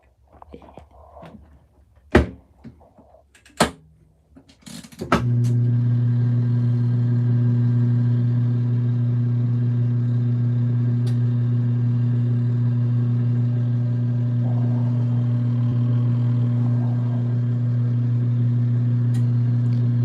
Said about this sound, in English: Turn on the spin cycle.